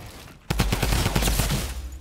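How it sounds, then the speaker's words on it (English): Rapid Tommy gun fire in the Fortnite battle royale game erupts after a brief quiet start, a dense loud burst of shots that runs steadily for under two seconds with no talk over it. "Frickin' Tommy gun."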